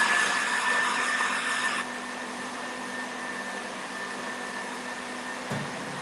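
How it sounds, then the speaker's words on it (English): An electric mixer whisks butter until creamy, giving a steady motor whine with a constant tone that drops slightly in pitch and level partway through, close and continuous with no talking. "Put the butter in. Whisk it till it creams."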